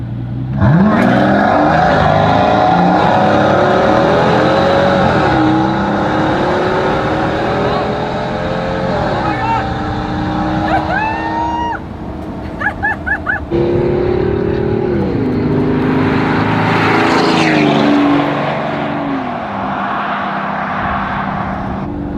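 A Mazda Exelero's loud engine revs up and climbs in pitch through several gear shifts, roaring close by as the car accelerates hard, with a brief rattle mid-run.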